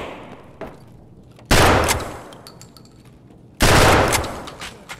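Two loud bursts of gunfire in Escape from Tarkov's Factory map, each a dense broadband roar lasting about a second, with a faint earlier shot and quieter ambient game noise between them.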